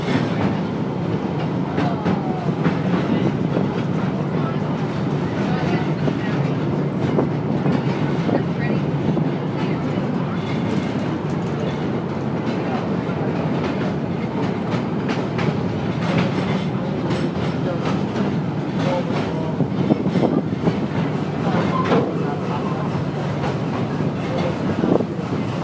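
Busch Gardens Williamsburg Railway train crossing a trestle, a loud, continuous rumble and clatter of rolling train cars with wind buffeting, steady throughout with no talk.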